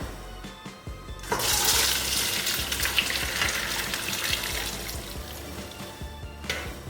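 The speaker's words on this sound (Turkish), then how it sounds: "Şimdi makarnamı süzeceğim." Cooked pasta and its hot water pour through a colander into a plastic container below, a loud steady gushing splash that starts suddenly after a quiet moment and runs for several seconds before tailing off.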